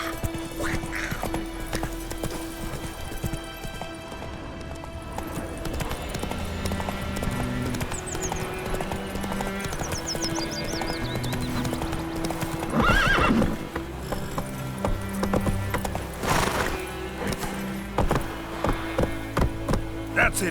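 Roach, a horse in The Witcher 3, clip-clops along in a steady galloping rhythm with several loud neighs and whinnies over game music, lasting throughout.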